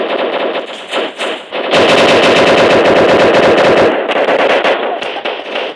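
Gunfire in the Blox Strike video game: a sustained burst of rapid automatic shots dominates the middle, with shorter volleys before and after, loud and close with no talk.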